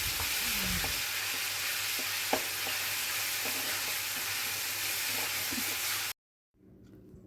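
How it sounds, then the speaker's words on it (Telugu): Ginger garlic paste and garam masala paste sizzle steadily in a pan with faint stirring scrapes for about six seconds, then the frying cuts out into near silence before a soft rustle returns. "1 టేబుల్ స్పూన్ అల్లం వెల్లుల్లి పేస్ట్, కొంచెం గరం మసాలా పేస్ట్ వేసుకొని వేపుకోవాలి."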